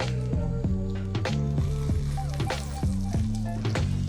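An egg omelette for a cheese omelette cooks in a hot pan, its soft, continuous sizzle running beneath steady background music.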